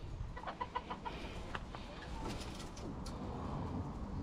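Chickens cluck in a short run of soft pulsed calls at a farmyard, fairly faint against steady outdoor background noise, with no one speaking.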